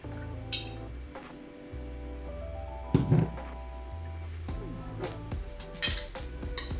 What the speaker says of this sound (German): Hier habe ich mal eine Pfanne vorgeheizt. Mache da etwas Olivenöl rein.